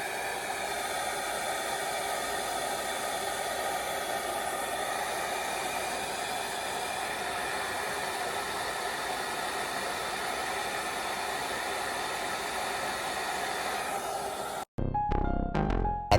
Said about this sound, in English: We gonna actually blow dry her.